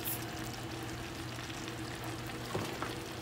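Tomato paste goes into a pot of chili beans cooking on the stove, giving a soft steady sizzle with faint stirring and a small plop near the end, quiet and close.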